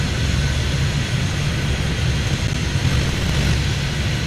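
An airplane in the airport-management game Airport Madness roars steadily as it speeds up along runway 28 left, a loud, continuous low jet rumble with broadband hiss, unbroken and alone throughout.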